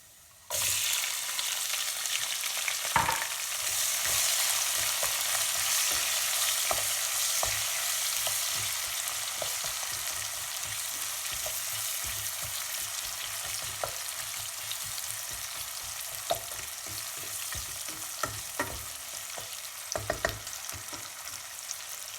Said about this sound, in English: We will fry the onions till the edges get a little bit golden brown.